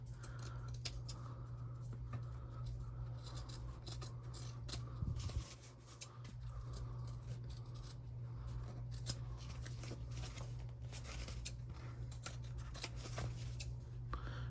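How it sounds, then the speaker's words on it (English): Scissors trimming loose threads and waterproof canvas edges on a fabric panel: repeated soft close snips and rustling cuts over a low steady hum, quiet and irregular throughout, with no speech. "So we're going to trim all our threads here."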